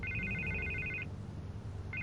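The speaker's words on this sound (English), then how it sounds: "I can't get the phone to stop ringing." Telephone ringing in the Telltale Batman game, two bursts of bright electronic trilling separated by a pause, over a low rumbling background.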